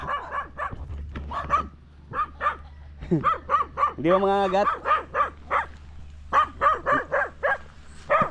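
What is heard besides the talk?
dogs barking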